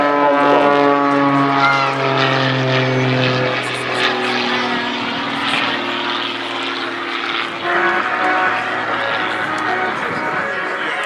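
An aerobatic propeller plane performing at the Torbay Airshow, a loud sustained engine drone with a slowly shifting pitch, close and continuous under a commentator's voice.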